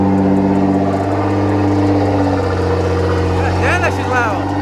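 A Nissan GTR engine runs loudly and steadily close by, a deep idle hum with a brief rise near the end, under talk throughout.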